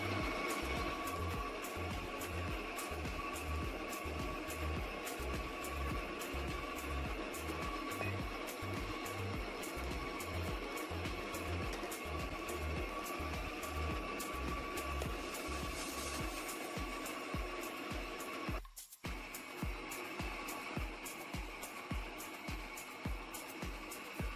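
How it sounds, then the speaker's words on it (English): An electric mixer whisking semolina cake batter, a steady rhythmic motor whir with regular pulsing beats, quiet and continuous, briefly interrupted before resuming. "put my machine on, and as it starts whisking"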